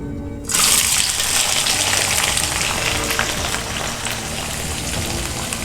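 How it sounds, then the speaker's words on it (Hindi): Chopped onions dropped into hot oil in a pan burst into a loud, bright sizzle after a brief quiet moment, then keep up a steady crackling hiss close by, with no voices. "अब उसके अंदर हम प्याज डालेंगे, चॉप की हुई प्याज डालेंगे।"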